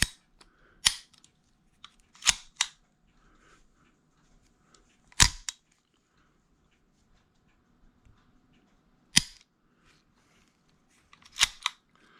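A few sharp, isolated metallic clicks and snaps come from a Ruger MK III pistol as the magazine is reinserted, spaced apart with near silence between them.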